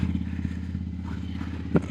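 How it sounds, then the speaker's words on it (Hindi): A motorcycle engine idling after starting on a Berlin street, a steady low chugging pulse running close and moderately loud, with a single brief thump near the end. "बाइक हो गई स्टार्ट, अब निकले यहाँ से यार"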